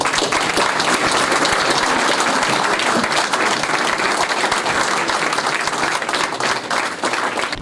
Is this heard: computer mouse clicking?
no